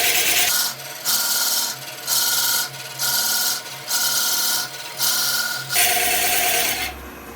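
Small wooden napkin ring spinning on a lathe as a tool takes little bitty cuts, giving a close, scratchy rasping that comes in about eight even bursts, each cut roughly half a second long with short pauses between.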